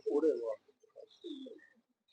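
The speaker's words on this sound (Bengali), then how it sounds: "পায়রাটা দেখছেন কত সুন্দর" A fourteen-year-old Madrasi pigeon gives a short series of soft, close cooing notes, a low throaty burst followed by a quieter pair, with brief gaps between them.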